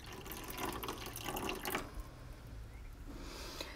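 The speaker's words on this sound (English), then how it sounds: "Just adding water." Water poured into a chicken egg incubator, a steady close splashing trickle for about two seconds that then thins to a faint drip and quiet flow.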